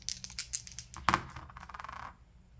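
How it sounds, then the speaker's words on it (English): Dice rolled on a tabletop for an Arracourt board wargame, a quiet rattle of small clicks and tumbling knocks with one sharper clatter midway, close up and without talk. "it's a straight up dice roll"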